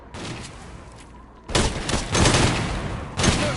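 Rapid bursts of gunfire in the shooter game S.T.A.L.K.E.R. Clear Skies, a quieter stretch followed by loud, close volleys of repeated shots, with no talking.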